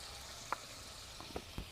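Pangas fish frying in a little oil in a pan gives a faint, steady sizzle with a few soft pops and crackles scattered over two seconds.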